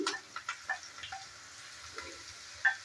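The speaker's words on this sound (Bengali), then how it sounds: "রসুন, আদা আর পেঁয়াজ ভালো করে ভেজে নেব।" Chopped onion, garlic and grated ginger frying in a pan, a soft steady sizzle with faint scattered pops and occasional stirring clicks, fairly quiet and close.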